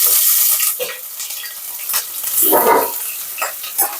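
Potatoes and chini fish fry in hot oil with a loud, close sizzle, broken by bursts of crackling and the scrape of a stirring spoon in the pan.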